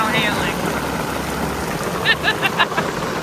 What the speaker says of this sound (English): It's now hailing.